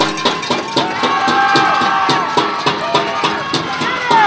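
Home crowd at a college football bowl game getting loud during a big defensive play, a sustained roar of cheering and shouting with rhythmic surges, fairly close and filling the space.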